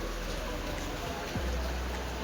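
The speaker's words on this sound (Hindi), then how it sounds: "कितनी तेज़ बारिश हो रही है।" Heavy rain pours outside a hotel, a dense and steady hiss that runs through the whole moment, with a person speaking over it.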